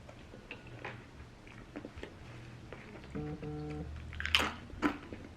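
Close, quiet chewing and crunching of a sandwich eaten with Doritos, soft irregular bites with a few sharper crunches near the end, no talking.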